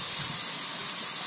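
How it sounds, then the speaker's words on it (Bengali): Onions with turmeric sizzle and hiss steadily in a hot pan for chicken keema curry, a close, continuous frying sound with no talking. "এবারে ভালো করে পেঁয়াজটাকে কষিয়ে নেব"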